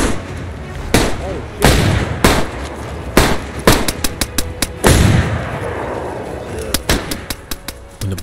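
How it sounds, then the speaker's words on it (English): Loud, close gunfire in DayZ, sharp single shots and quick bursts spaced irregularly across the span, with echoing tails between the cracks. "When the bullets started to fly, I was hit from behind"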